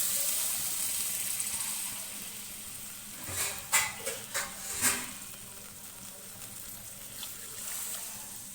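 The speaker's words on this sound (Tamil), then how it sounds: "போட்டு நம்ம தண்ணி ஊற்றிக்குவோம் எவ்வளோ தண்ணி தேவையான அளவு ஊற்றிக்கணும்" Water poured into a hot pan of mixed vegetable kootu seasoned with masala powder, giving a steady hiss and sizzle with a few short splashing bursts in the middle, then settling into a soft simmer.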